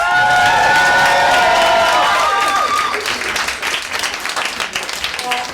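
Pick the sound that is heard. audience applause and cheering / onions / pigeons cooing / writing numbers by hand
audience applause and cheering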